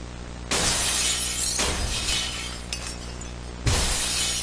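Glass shatters for a glass repair company advertisement: a loud, bright crash bursts in, a second smash follows about a second later, and a third sharp break comes near the end, with tinkling fragments between.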